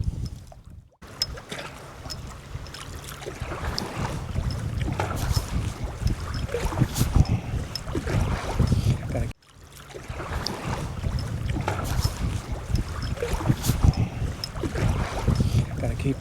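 Wind gusting and river water rushing around a kayak paddled downstream on the Kiskiminetas River, a steady broadband roar with a brief dropout near the start and another around nine seconds, with no talking.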